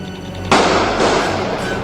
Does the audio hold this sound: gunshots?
yes